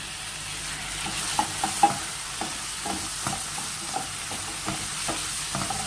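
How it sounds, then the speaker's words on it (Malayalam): Onion and tomato fry in a pan with a steady soft sizzle, while a spoon scrapes and stirs in irregular clicks and taps up close. No one speaks. "സവാള വാടി വന്നിട്ടുണ്ട്. അതിലേക്ക് നമുക്ക് തക്കാളി ചേർത്ത് കൊടുക്കാം."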